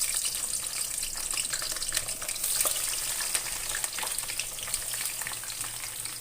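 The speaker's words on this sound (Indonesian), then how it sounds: "Jadi kalau kita menggoreng terong itu harus menggunakan api yang besar dan minyak yang banyak" Eggplant frying in a large amount of very hot oil over high heat, a loud, dense, continuous sizzle and crackle that holds steady from start to finish without any talking.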